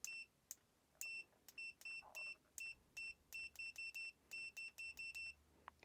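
A Proster multimeter beeps on continuity test in manual mode: a quick, irregular series of short, clear high-pitched beeps, about twenty in six seconds, quiet and close with no talking.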